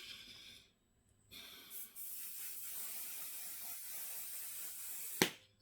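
Two short pressurized bursts of One Size satin makeup setting spray, separated by a brief pause, then a longer steady hiss of misting close by, ending with a sharp click.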